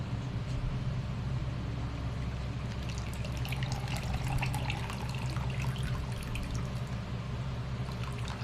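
Hot water runs from a tap for color-changing Disney Cars toy cars, a steady, close rushing stream with splashing and dripping that holds evenly throughout, with no talking.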